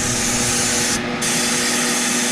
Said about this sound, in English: I'm gonna do a little bit of this, media blasting on this last part of this vise